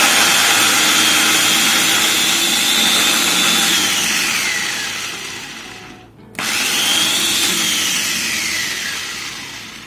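Mitochiba CH-100 electric food chopper whirring loudly at high speed, its motor pitch dropping as it works, cutting out for a brief moment and then spinning back up, with no voices over it.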